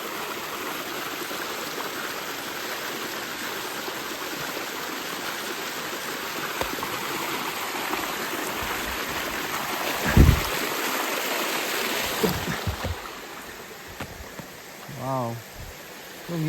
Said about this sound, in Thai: ไหลเชี่ยวแล้วก็คิดว่าเป็นน้ำที่สะอาดมากๆ